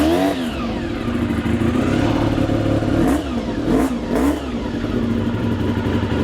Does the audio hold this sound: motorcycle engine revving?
yes